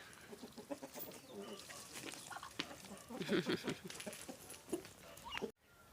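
Soft, low clucking from a sitting hen close by on a farm, repeated irregularly amid rustling and faint farmyard noise, ending abruptly.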